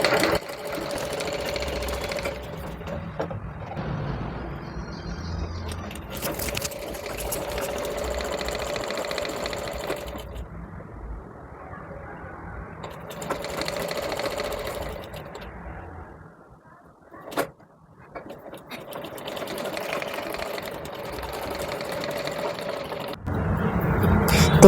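A sewing machine stitches an umbrella frock, its steady, close whirring running in long stretches with a few brief stops and restarts.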